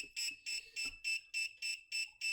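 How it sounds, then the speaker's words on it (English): A steady run of eight high-pitched electronic beeps from a circuit board in programming mode, evenly spaced and fairly quiet, with faint low rumbling early on. "If you go to the the programming function, should start beeping away."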